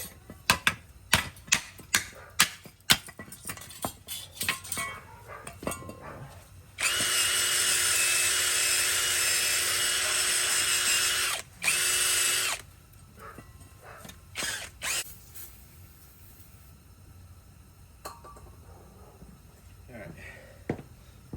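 A power tool loosens brake caliper bracket bolts on a 2019 Dodge Grand Caravan front axle: scattered sharp ticks and clanks, then a loud, sustained whirring burst of about six seconds, followed by more clicks and rattles in a garage.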